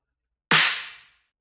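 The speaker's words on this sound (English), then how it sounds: "And then I layered it with this boot clap," A single boot clap sample sounds as one sharp, bright, close snap that fades over about half a second, with nothing before or after it.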